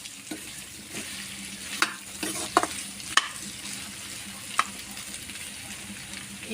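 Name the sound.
stirring food frying in a pan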